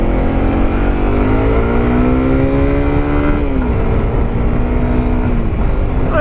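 A Honda CRF250 Rally 250cc motorcycle engine revs loud and close, its pitch climbing steadily, then dropping abruptly at a gear change before holding a steadier tone.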